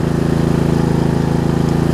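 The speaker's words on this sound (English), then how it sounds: "So pardon the lawnmower running" A Murray riding lawn mower engine runs steadily at close range, a loud, even, pulsing drone that continues throughout with no talk.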